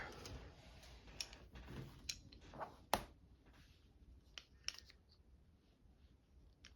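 Scissors snip through handwoven strips of fabric in a quiet craft room, giving a few sharp, close clicks and crunches at irregular intervals over low background hiss.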